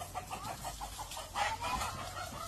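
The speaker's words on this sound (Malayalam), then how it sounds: "ഇതാക്കിയ കോഴിയെ പിടിച്ചോ," A hen clucking in rapid agitated bursts while it is being caught, fairly close, with brief louder squawks near the end.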